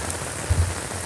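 Light rain patters on a road. The drizzle is a steady, soft wash with one brief low thump midway.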